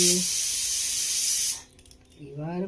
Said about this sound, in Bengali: হালকা গরম জল দিয়ে চান করবে বাবুর